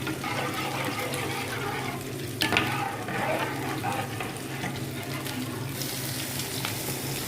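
Mushroom sauce with barbecue sauce and ketchup cooking in a pan, a steady bubbling sizzle with a brief clatter midway, continuous and close.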